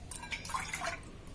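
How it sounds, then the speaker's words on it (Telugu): Water is poured into a cup of sour curd, making a faint, brief trickle of soft drips close by. The sound is quiet and lasts only about a second. "కొంచెం నీళ్ళు పోసుకోవాలి"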